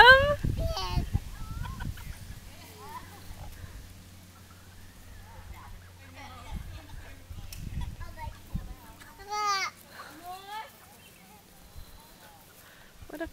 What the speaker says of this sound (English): What a funny chicken.